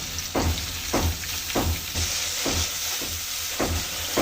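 Bay leaves with onion and garlic paste fry in a pan for a Bengali fish-head ghonto, a steady close sizzle broken by a stirring scrape roughly every half second.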